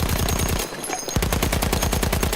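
A light machine gun from Battlefield 1 fires on its bipod in rapid, steady bursts. A loud, close automatic rattle briefly pauses before resuming.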